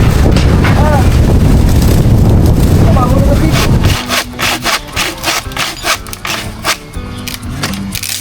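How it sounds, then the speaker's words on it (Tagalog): Strong wind roars and buffets the microphone for several seconds, then drops to gusty rustling while a voice speaks intermittently. "Malakas ang hangin."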